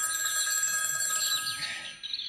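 An electronic telephone ring sounds in a theatre staging of Shakespeare's sonnets, a steady bright trilling tone that carries through most of the moment before tapering off near the end, with no one speaking over it.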